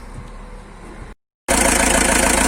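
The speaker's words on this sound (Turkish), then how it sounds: "aracımızı çalıştırdık" A Hyundai panel van's engine is started after repair work, with a low idle rumble, a sudden silent gap, then a louder steady idling drone.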